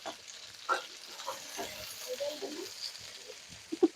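Tomatoes added to hot oil in a home kitchen during Eid fish cooking, giving soft sizzling and frying with stirring, fairly quiet, with a few louder clicks near the end.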